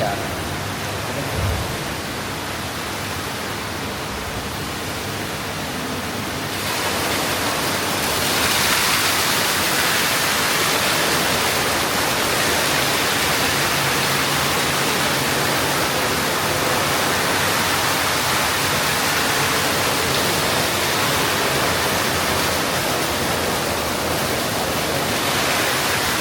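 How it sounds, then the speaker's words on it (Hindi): High-pressure water jets spraying around the legs, a quiet hiss at first that jumps to a loud, steady broadband rush after a few seconds and continues without a break. "नीचे टांगों में प्रेशर से पानी आ रहा है।"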